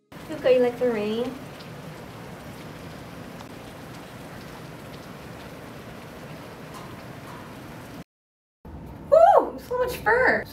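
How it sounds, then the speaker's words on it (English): Steady rain falls in a dark room with a cat, a continuous even patter running through the clip with a brief dropout near the end, while a person talks over it at the start and finish. "Luca, you like the rain?"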